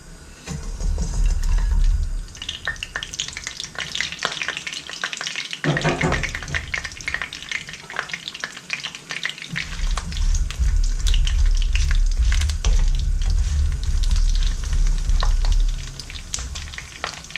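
Pieces of Chinese-style crispy beef sizzle loudly and steadily in a hot pan while being stirred, with a continuous close frying hiss and scraping of the stir.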